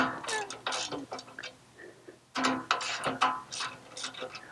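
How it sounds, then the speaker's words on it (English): A 13 mm wrench working a nut on a Magnum inverter in an RV, quick ratcheting clicks and metallic taps in short bursts, close and moderately loud, with a pause midway before the clicking resumes. "get my nifty 13 millimeter wrench"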